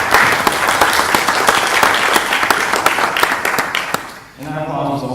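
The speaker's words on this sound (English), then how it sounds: "And that applause was also from everybody." Loud, dense applause from a conference audience at a Design for Drupal event, sustained clapping that fades out near the end as a voice begins speaking.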